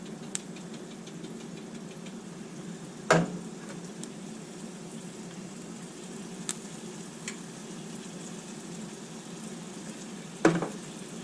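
Meat frying in a pan, seasoned with black pepper and salt, gives a steady close sizzle throughout, broken by two sharp metallic clanks of a utensil against the pan. No one speaks.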